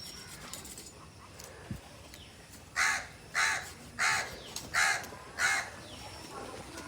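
A crow caws five times in a regular sequence, loud and fairly close, each call a harsh burst following a quiet stretch of faint background ambience.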